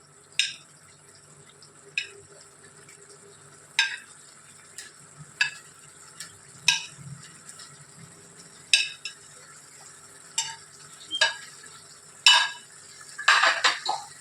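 Eggs slipped one by one into a hot pan of mustard-poppy seed sauce, heard as a series of distinct soft splashes and clinks spaced a second or two apart over a quiet low sizzle, with a busier clatter at the end.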